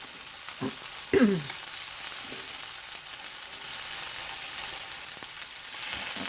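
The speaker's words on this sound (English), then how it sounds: "Then I'm going to sear it on around the sides real quick." A roast searing in butter in a hot pan gives a loud, continuous hiss with a few scraping knocks of the meat being turned early on, and no voices.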